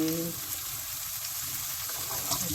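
Carrots and mixed vegetables stir-fry in a pan with a steady, close hiss of frying that runs unbroken throughout.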